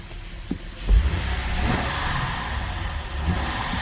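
Honda Pilot with 136,000 km and multiple engine codes starting up, a thump of ignition followed by a steady mid-pitched engine running and slight revving, close and without talk.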